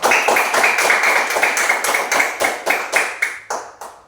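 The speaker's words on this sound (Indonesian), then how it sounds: "Tepuk tangan untuk kelompok 3 dulu." Classroom applause for a student group, a fairly dense burst of clapping from many hands that thins out and slows toward the end.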